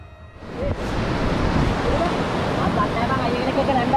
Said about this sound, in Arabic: وبدأت أمواج كبيرة تضرب الشاطئ